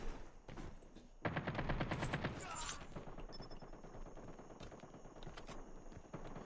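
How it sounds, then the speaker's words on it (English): Revolver gunfire in a first-person shooter video game rings out as a quick cluster of sharp shots, followed by sparser, fainter game effects and background noise, all at a fairly quiet level. "It is kind of fun using this this revolver"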